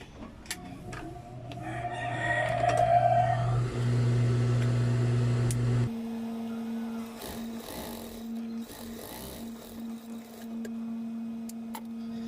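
Sewing machine stitching fabric for a foam cover, a close, steady mechanical whir that ramps up, runs evenly, then shifts to a lower sustained hum after a brief pause.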